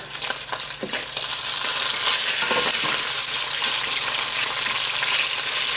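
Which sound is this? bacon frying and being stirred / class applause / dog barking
bacon frying and being stirred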